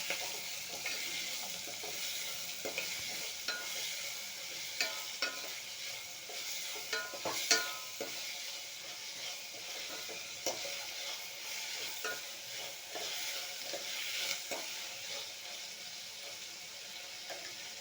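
Two medium chopped onions sautéing in a pan, a soft continuous sizzle with scattered stirring clicks and scrapes, fairly quiet and without talk.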